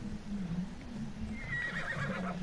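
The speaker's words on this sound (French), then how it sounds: "Allez bien mon cheval là." A horse in the video game Assassin's Creed Odyssey gives a single short neigh, clear but fairly soft, with a faint hint of hooves and no speech.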